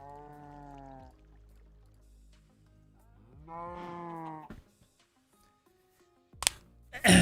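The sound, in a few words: cow mooing in Minecraft video game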